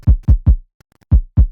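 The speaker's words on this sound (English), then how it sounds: "the kick drum sounds like this" Kick drum sample pitched down and left uncompressed, with no glue compression or saturation: five deep, booming thumps in a steady pattern, three close together then a gap and two more, each with a quick decay.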